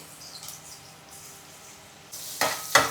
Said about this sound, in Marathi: तेल गरम झाल्यावरती ठेचलेला लसूण आणि मिरची ऍड केली